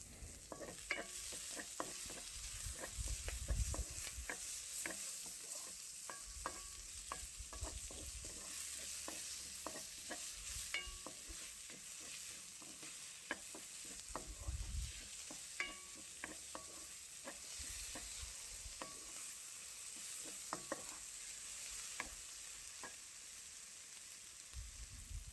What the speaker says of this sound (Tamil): தக்காளி பழம் சேர்ந்து வதங்கி வர நல்ல ஒரு வாசம் வரும்